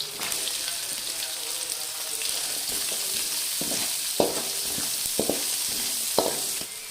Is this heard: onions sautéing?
yes